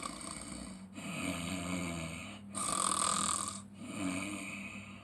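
A person imitates snoring, giving three drawn-out rasping snores in a steady rhythm, fairly quiet and close, with no other sound around them.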